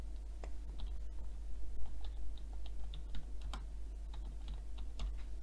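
Computer keyboard keys clicked in a quick, uneven burst while typing a search query, close and fairly quiet over a low steady hum.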